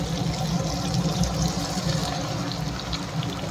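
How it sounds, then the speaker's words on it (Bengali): Cornflour slurry mixed in water being poured into chilli chicken in a pan, heard as a continuous close liquid splashing and bubbling hiss. "এখন দিয়ে দেবো এই যে কর্নফ্লাওয়ারটা গুলে রেখেছিলাম জলের মধ্যে"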